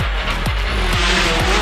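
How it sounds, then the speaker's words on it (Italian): A Peugeot 208 T16 rally car's turbocharged engine revs hard up through the gears, its note climbing quickly and dropping at each rapid shift, loud and close from inside the car. "sente il motore che sale perché abbiamo ora un bel motore per il turbo"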